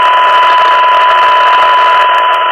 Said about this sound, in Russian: 123 уже явно сигнал генератора слышен